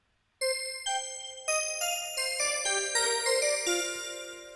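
A synthesizer bell patch named Chamara bells plays a run of bright, ringing tones. Each note strikes cleanly and rings on, the notes layering into a shimmering cascade that gently decays, with no voices.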